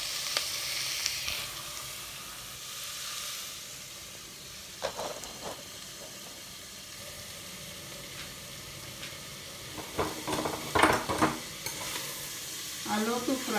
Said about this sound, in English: Allow to fry for 2 minutes, just 2 minutes.